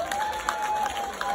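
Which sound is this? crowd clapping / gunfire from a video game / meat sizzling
crowd clapping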